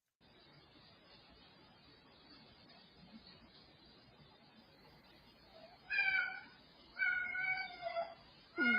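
A cat's meows play back from a recording, three short tonal calls arriving in quick succession near the end over a steady low background hiss.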